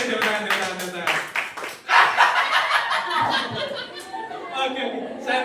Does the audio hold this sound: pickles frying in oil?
no